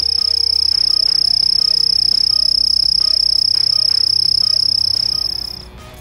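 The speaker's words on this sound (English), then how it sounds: "katydids create more of a buzzing sound" A loud, steady high-pitched katydid buzz drones continuously before cutting off, with softer rustling and low background tones beneath.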